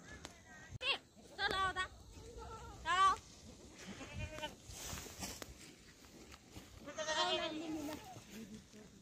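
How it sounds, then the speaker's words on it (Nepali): Goats bleat on a hillside at Gumba Dada near Hetauda, with several distinct, wavering calls spaced out over a few seconds amid quieter rustling and people talking nearby. "ओ बाख्रा गोठालो"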